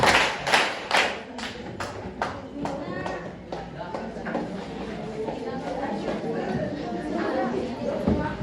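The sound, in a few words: group clapping twice in greeting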